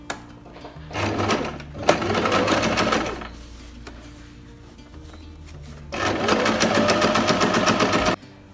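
Sewing machine stitching the lining of a fabric laptop or tablet sleeve, running in two steady bursts of rapid needle chatter with a quiet pause between them, close and fairly loud with no talking.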